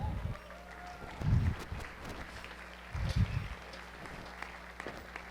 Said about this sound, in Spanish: un fuerte aplauso para Alberto Lati